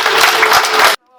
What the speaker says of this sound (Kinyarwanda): Mubampera amashyi rwose ibyo bakoze